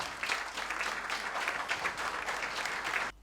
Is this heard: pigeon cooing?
no